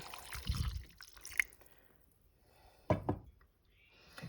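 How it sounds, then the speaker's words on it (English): Three-quarters of a cup of brandy is poured into a brandy pudding mixture off the heat, with a few short splashy bursts and drips between quiet gaps. "3/4 of a cup of brandy. Add that in."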